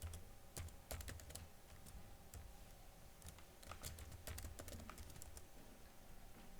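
Typing on a computer keyboard while entering a username and password, with irregular bursts of sharp key clicks over a low, steady background hum.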